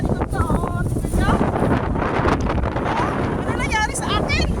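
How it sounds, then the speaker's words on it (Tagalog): Strong outdoor wind buffeting the microphone, loud continuous rumbling gusts, while someone talks and exclaims excitedly over the roar. "Oh, lakas ng hangin guys, oh!"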